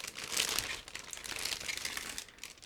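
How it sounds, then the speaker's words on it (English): A plastic bag holding a 1/700 scale ICM warship model kit is opened up close, giving a dense crinkling and rustling that swells and fades over a few seconds, with no talking. "I will open the first plastic bag"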